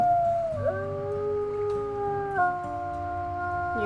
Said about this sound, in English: is it time to howl?